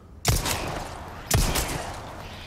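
Two sharp gunshots in the video game Resident Evil 4 Remake, about a second apart, each a loud broadband crack with a ringing tail, no talking.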